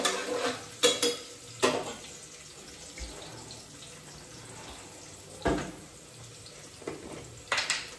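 Onion frying with salt in a pan, a quiet steady sizzle broken by several sharp stirring and scraping bursts at irregular intervals, close by and without talk.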